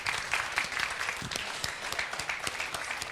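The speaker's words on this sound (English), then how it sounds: "now you're going to applaud" An audience at an awards ceremony claps steadily, a dense patter of many hands that continues without a break, fairly close.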